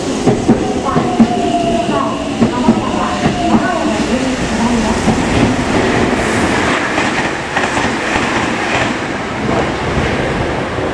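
A non-stopping train rumbles and clatters through Kō Station on the Meitetsu Nagoya Main Line, loud and steady, with wheel clicks and a Japanese station announcement faintly underneath.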